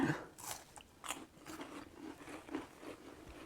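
Crunchy bites into a homemade Thin Mint copycat treat made with crackers and chocolate, giving several crisp, close crackling crunches over about three seconds with no talking.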